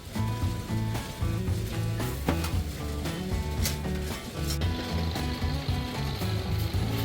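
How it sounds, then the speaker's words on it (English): Raw rice frying in a motor-driven stirrer roasting unit fired with sawdust and firewood, a steady sizzling rustle under a continuous mechanical hum with a tonal drone, loud and close throughout. "Here, the raw rice is fried for about 2 to 5 minutes depending on the grain type"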